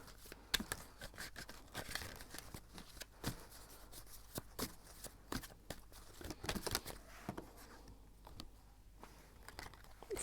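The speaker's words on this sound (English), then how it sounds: "I'm gonna shuffle some more cards" A tarot deck being shuffled by hand, quiet close riffles and papery flicks of cards coming in irregular bursts and crisp snaps, with no talking.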